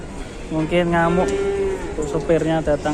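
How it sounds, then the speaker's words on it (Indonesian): A masked cow at a busy market moos loudly in several drawn-out, rising calls, with people talking nearby. "Ini ada sapi bertopeng lagi datang."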